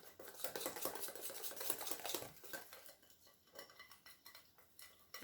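A utensil stirs cocoa cake batter in a bowl, making faint, rapid clinks and wet scraping against the sides in an uneven rhythm.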